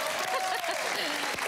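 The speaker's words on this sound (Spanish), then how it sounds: "Aplausos sacó con esa." A studio audience on a Spanish-language TV show applauds in a dense, continuous wash of clapping, with a voice talking over it.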